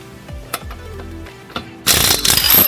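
A Dowox 1200 ft-lbs cordless impact driver with a 22mm socket removes nuts: a few light metallic clicks and clanks come first, then a loud, rapid hammering rattle bursts in and continues to the end.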